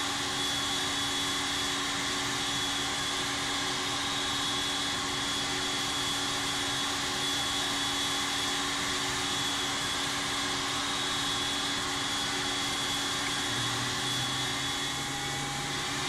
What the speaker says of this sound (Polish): Uruchamiamy silnik numer 1.